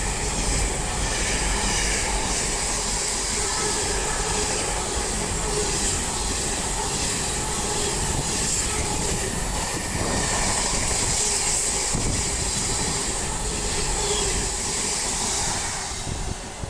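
A freight train with flat wheels passes at Acton Bridge on the West Coast Main Line, producing a loud, continuous rumble and rolling roar of wagons with faint rhythmic wheel beats and occasional high squeals throughout, with no speech.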